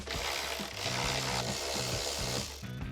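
A 10mm socket works a bolt in the driver's side footwell of a Tacoma, giving close, rhythmic ratcheting and clicking bursts with a short mechanical rattle, moderately loud and without talk.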